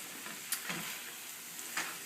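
A stir fry hisses in a pan while being stirred, with a steady sizzle and a couple of light utensil clicks, close and moderately loud, no voices.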